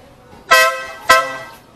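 Two short, loud blasts from a newly installed big car horn, a bright brassy tone sounding about half a second apart, close by with a quiet background.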